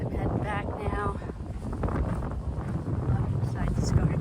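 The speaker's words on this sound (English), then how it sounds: "But it's getting windy." Wind gusts beside a lake in the Pennsylvania woods, buffeting the microphone with a steady low roar, while a person speaks briefly near the start.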